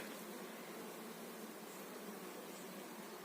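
Honey bees carrying pollen buzz in a soft, steady hum in the early morning, many insects droning together at a distance without pause.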